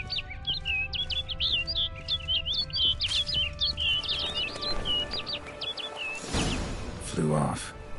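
Video game bird calling in a rapid series of bright chirps and tweets over a steady ambient background, followed by a louder whooshing flutter near the end.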